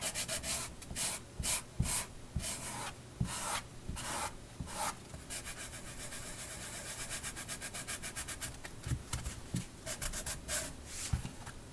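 Heavy-grit Harbor Freight sandpaper scrubs back and forth by hand in quick, rhythmic rasping strokes, fairly close and steady throughout.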